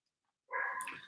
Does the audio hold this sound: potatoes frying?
no